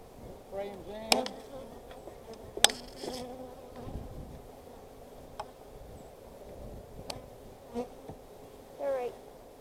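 Italian honey bees buzz and hum around a hive during installation outdoors, a soft, steady drone with individual bees zipping close past at moments, plus occasional light clicks and knocks of hive equipment.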